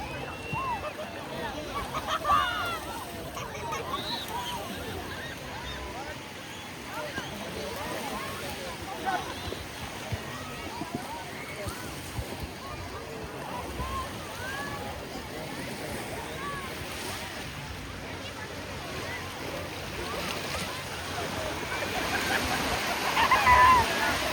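Waves roll and wash on a freshwater lake with a steady, rushing surge that swells near the end, while someone talks over the water throughout.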